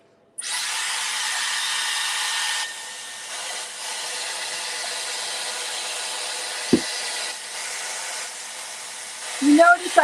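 A heated hair dryer brush runs with a steady, loud blowing whir while drying hair. The pitch shifts partway through as the setting changes, with brief handling clicks near the end.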